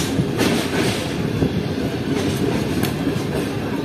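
Karachi Express passenger train rolling along the track under a speed caution, a steady loud rumble of wheels and carriages with faint rhythmic clatter, continuous and close throughout.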